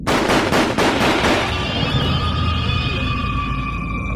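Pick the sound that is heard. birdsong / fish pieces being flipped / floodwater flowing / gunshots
gunshots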